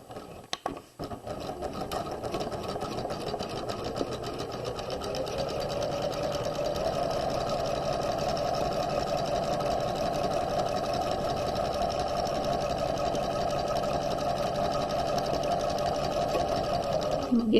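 A sewing machine runs continuously and close while stitching a raglan sleeve to a bodice, with a brief back stitch at the start and a steady whirring drone throughout; a voice talks over it.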